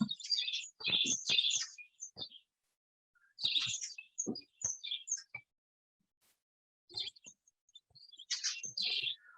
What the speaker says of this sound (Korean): 우리 주변에서 많이 볼 수 있는 박새입니다.